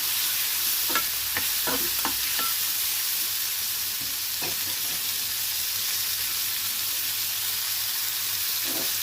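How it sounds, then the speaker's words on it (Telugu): Tomato frying in oil in a pan until it turns soft, a steady broadband sizzle with a few soft stirring scrapes and taps scattered through it, close and continuous, with no talking. "కొంచెం టమాటా మెత్తపడి వరకు వేయించుకోవాలండి"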